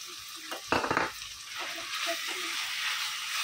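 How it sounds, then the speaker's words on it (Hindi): Minced chicken frying with ginger and garlic gives a soft, continuous sizzle, with a brief clatter of a spoon stirring in the pan. "अभी अच्छे से कीमे को इसमें भुनेंगे, अदरक लहसुन के साथ अच्छे से भुनेंगे।"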